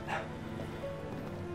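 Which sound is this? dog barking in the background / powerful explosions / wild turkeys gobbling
dog barking in the background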